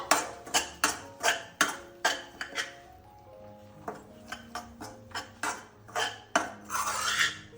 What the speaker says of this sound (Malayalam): റസ്ക് വറുത്തെടുക്കട്ടെ പൊടിച്ചത്